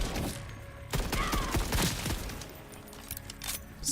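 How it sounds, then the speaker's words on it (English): Rapid bursts of Jakobs assault rifle fire in a video game, loud and close, with several shots ringing out amid busy game effects. "The Jacob assault rifles are pretty satisfying."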